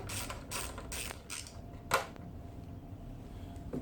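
Screw being undone from the brake line holder on a GSXR750, a run of quick ratcheting clicks in bursts followed by a single sharper tick and quieter mechanical rattles, no speech.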